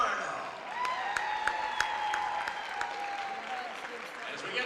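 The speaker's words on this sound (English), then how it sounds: "please give a round of applause for the Bruin 6 seniors" Crowd applause in a gym at a women's basketball game honoring senior player Ashton Arnold, steady clapping from the stands with an announcer talking over it and occasional sharp claps.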